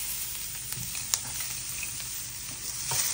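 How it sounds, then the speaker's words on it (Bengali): Onion frying in a pan for butter chicken, a steady close sizzle with faint stirring clicks and one sharp utensil tap, no talking. "দিলাম পেঁয়াজ"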